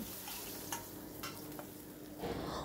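Fish frying in oil in a pan over medium heat gives a soft, steady sizzle with a few faint clinks, fairly quiet and close, with no talking.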